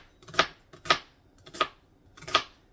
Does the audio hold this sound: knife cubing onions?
yes